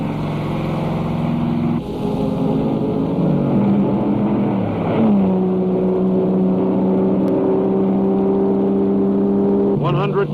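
Racing cars at the 1965 Sebring 12 Hour endurance race, MGs and Austin Healey Sprites among them, roar close by with loud sustained engine notes that shift pitch as they rev and pass, continuous throughout.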